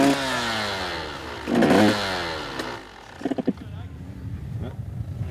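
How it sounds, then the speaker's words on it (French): A motorcycle engine making an odd noise revs up and down unevenly with a rough, sputtering edge, followed by clattering pops and wind buffeting on the microphone, at the Touquet race. "Ah, la moto, j'ai l'impression qu'elle fait un bruit bizarre."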